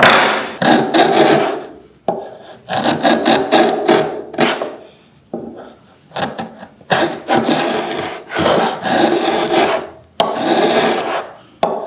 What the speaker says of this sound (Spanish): Esta prueba es la más compleja porque estamos cortando en contra del sentido de la veta.